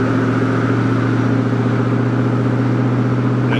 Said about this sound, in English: the stock exhaust, other than the mufflers have been replaced. So it's a little bit louder than what it would have been stock.